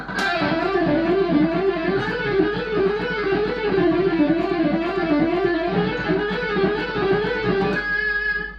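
A heavily distorted electric guitar plays a fast, continuous melodic lick in E Phrygian with a buzzy, saturated tone, steady and loud throughout, ending abruptly.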